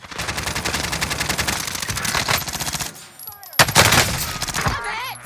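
Rapid automatic gunfire in the Warzone video game, long sustained bursts of loud, close shots with a short pause before another volley and a voice shouting briefly at the end.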